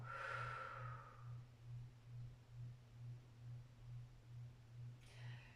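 A slow, deep breath drawn in and let out during a stretching exercise, close and soft, followed by faint quiet breathing over a low steady hum, with another breath near the end.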